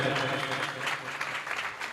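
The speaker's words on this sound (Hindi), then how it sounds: "हाँ जोर से ताली बजाओ" A crowd applauding at a Jain Panchkalyanak religious festival, steady massed clapping at moderate distance, with a voice over a loudspeaker.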